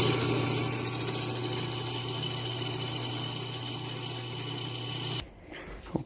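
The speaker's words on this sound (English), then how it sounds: "Let's see if we actually have a drill bit that'll drill this" A power drill runs loud and steady for about five seconds, whining as it bores through a heavy metal throttle bracket, then cuts off abruptly into near silence.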